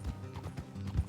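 Horses' hooves clip-clop along a road in the Red Dead Redemption 2 video game, a quick run of soft thuds under faint background sound.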